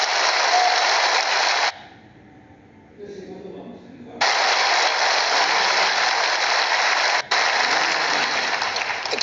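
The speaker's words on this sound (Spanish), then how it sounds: "Un aplauso a Jesús." A church congregation applauds loudly and continuously for Jesus. The clapping stops in a short lull, then resumes at full strength.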